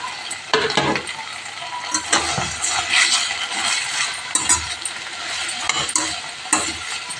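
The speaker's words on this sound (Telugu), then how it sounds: "ముందుగా ఫ్రై చేసుకున్న చికెన్ని ఇందులో వేసేసుకుందాం." Pre-fried chicken with salt stirred in a hot pan, giving a steady, close sizzle with repeated scraping and stirring strokes and occasional utensil clinks, no talking.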